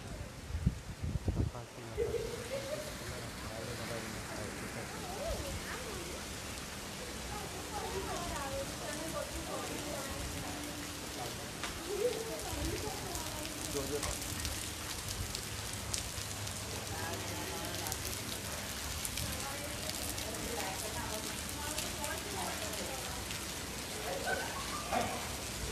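Heavy downpour driven by strong wind during Cyclone Biparjoy in Vidyanagar, Anand, a dense continuous patter and hiss of rain, fairly faint and steady, with a voice talking over it.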